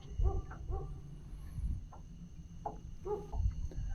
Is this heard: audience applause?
no